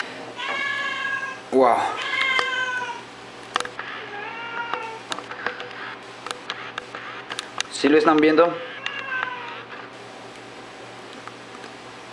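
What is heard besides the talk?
cat meowing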